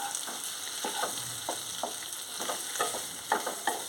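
Boiled potato curry is stirred in a pan, with repeated scraping strokes at a steady rhythm over a continuous soft frying sizzle, close and moderately loud.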